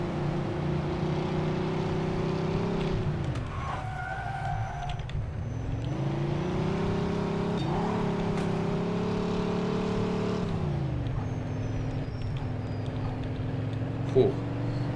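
A battered car in Mafia II, its tires blown off and its trunk rattling, drives with a steady engine drone that rises and falls in pitch as it speeds up and eases off, and people talk over it.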